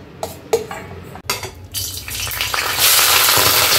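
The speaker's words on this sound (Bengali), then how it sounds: "বেশ ভালোই ছিটালো, জল ছিল পেঁয়াজের জল" Onions frying in hot oil hiss and spit loudly as water from the onions splatters, after a few short utensil clinks and stirring taps at the start.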